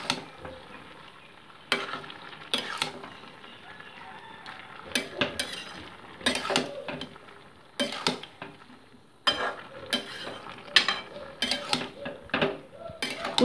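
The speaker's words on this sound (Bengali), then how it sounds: "শাকটাকে পুরো সবজির সাথে আমি মিশিয়ে নিচ্ছি ভালো করে, দিয়ে মোটামুটি এটাকে 5 মিনিট আমি কষিয়ে নিচ্ছি" Palong greens mixed with radish and cauliflower for a winter ghyat are stirred in a pan, with repeated sharp scrapes and clanks of the spatula in bursts over a low, steady sizzle.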